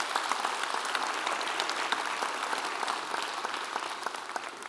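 An audience at a county school district's State of the Schools address claps steadily, with many crisp individual hand claps forming a lively, sustained round of applause that eases slightly toward the end.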